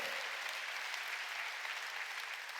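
A church congregation applauds during a Sunday worship service, a steady, dense wash of clapping that stays even and continuous throughout, without speech.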